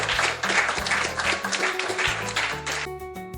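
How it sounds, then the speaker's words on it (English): Hands clap in a quick, continuous patter for about three seconds, fairly close, with light music underneath. "It was clapping hands."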